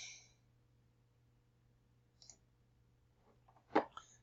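A single sharp computer mouse click rings out near the end, clear and close, preceded by a faint softer click and otherwise quiet with a low steady hum underneath.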